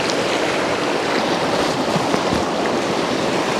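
Fast-flowing water on the Cowlitz River rushes in a steady, dense wash, close and continuous with no break.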